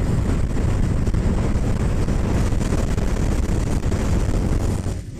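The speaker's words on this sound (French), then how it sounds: "Ici, sur la route, le vent vient directement sur ta poitrine." Wind rushing against a rider on a moving Triumph Rocket 3 GT motorcycle, a dense, loud, continuous roar and buffeting with no breaks, no voices heard.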